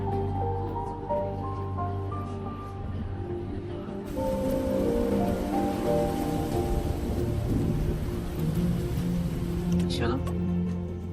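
Steady rain pours down with a dense hiss that grows heavier partway through, while low rumbling and voices sit underneath.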